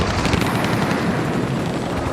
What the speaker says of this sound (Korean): 드레코의 무장 헬기는 연구소를 습격하고